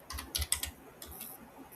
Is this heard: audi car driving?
no